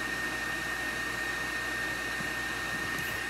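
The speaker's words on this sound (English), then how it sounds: "I'm up under the dryer." A hood hair dryer runs continuously at home while a tint sets on permed hair, giving a loud, unbroken whooshing hum with a faint steady whine and no talking.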